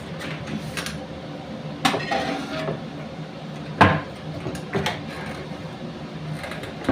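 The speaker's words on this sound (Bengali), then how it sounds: "এবার তাওয়াটা বসাবো।" An iron tawa griddle is set down on a kitchen stove, giving several sharp metallic clanks and knocks spaced a few seconds apart against a steady low background hum.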